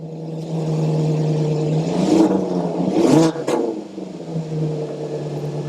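A Maserati GranTurismo S engine runs at a steady, loud idle hum, swelling briefly with a couple of revs in the middle before settling back to its even drone.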